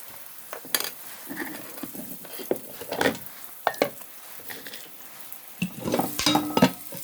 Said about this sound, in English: I'm going to turn the soup